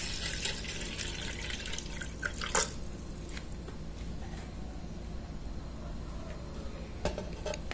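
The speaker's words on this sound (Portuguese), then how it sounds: "Aqui no liquidificador eu vou colocar a água." Water pours into a blender jug while making mangaba juice, a steady running, splashing flow with a few brighter drips and gurgles, fairly close and continuous with no talking.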